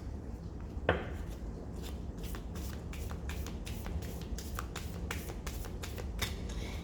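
Tarot cards are shuffled to clear them, with soft repeated riffling and flicking close up over a steady low background hum, no speech.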